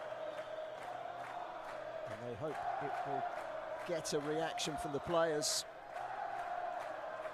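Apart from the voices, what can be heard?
passionate home crowd noise at football stadium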